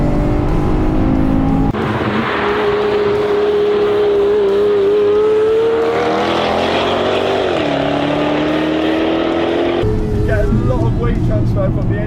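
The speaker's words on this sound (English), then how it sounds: "My dad was getting to enjoy his first lap of the Nürburgring in the Aston Martin" An Aston Martin engine drones loudly and continuously on a lap of the Nürburgring, heard from inside the car as the pitch rises and falls with shifts and corners.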